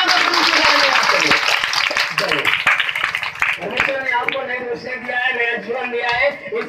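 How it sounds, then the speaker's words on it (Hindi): A church congregation at a Christian satsang gathering claps loudly together, a dense burst of applause that fills the first half and then thins out as voices rise over it. "इसलिए जोरदार ताली बजाएं"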